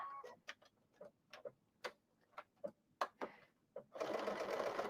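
Sewing machine doing free-motion stitching with an O presser foot on an old shirt: quiet, irregular ticking stitches in short clusters, followed by a sudden steady run of fast stitching at the end.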